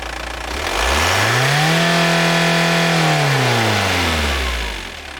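Diesel car engine revving from idle to full throttle during an emission test, a loud close sweep rising quickly to a sustained high-rpm roar, holding, then falling back to idle.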